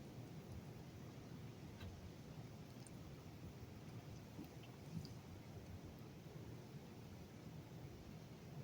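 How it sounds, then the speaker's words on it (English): Heavy rain falls during a hurricane-season storm with flood warnings, making a steady, even hiss that is faint and distant throughout, with no clear thunder crack standing out. "Keeps lightning and raining and"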